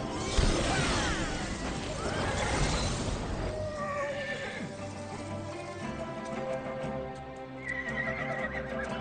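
A horse whinnies loudly in a long, wavering cry, followed by fainter neighs and the clip-clop of hooves, with dramatic music and a voice speaking underneath.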